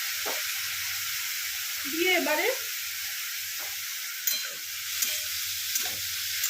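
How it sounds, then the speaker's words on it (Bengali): Raw soaked red lentils (masoor dal) frying in oil tempered with spices in a wok, a steady broadband sizzle with brief stirring scrapes, under a few short spoken words. "আর একদম এইভাবে কড়াই দিয়ে দিলাম, ফোড়ন দিলাম, দিয়ে কাঁচা মুসুর ডালটা দিয়ে দিলাম"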